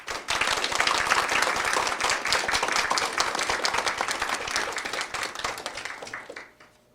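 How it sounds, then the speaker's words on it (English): Audience applause at a book launch, dense close clapping building quickly, then holding steady before tapering off near the end. "I'm going to ask you all to join me in very, very warm applause for Geoff and Marelene right now."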